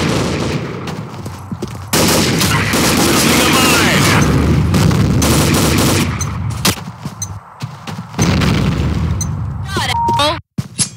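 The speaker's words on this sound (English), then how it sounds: "Grenade!" Loud bursts and explosive booms in the shooter game Combat Arms during a grenade-heavy round, with heavy gunfire rattling around them and in-game voice callouts over the action.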